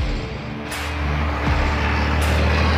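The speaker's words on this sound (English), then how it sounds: "That truck is so loud." Heavy truck rumbling past close by, a loud low engine drone that swells and holds, with a brief hiss like an air brake release partway through.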